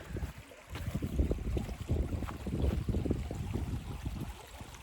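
Overflowing pond water rushes and gurgles in uneven surges, a close, churning flow with a rough, turbulent texture.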